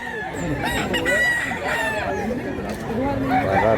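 A black cockerel about a year old crows close by at a Cebu fowl sale, with long, loud, wavering calls that carry on over background noise.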